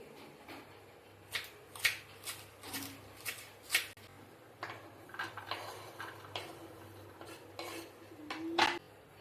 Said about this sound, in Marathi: मी सगळ्यात आधी पटपट भेंडी चिरून घेते अशी मी गोलच कापते भेंडी